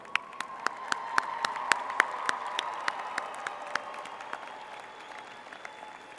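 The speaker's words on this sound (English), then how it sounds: "Graduates, please turn to your families and give a mountaineer cheer for what they have done to make this day" Graduates applaud at a May 2014 West Virginia University College of Education and Human Services commencement, with steady crowd clapping and sharp individual claps that gradually fade toward the end.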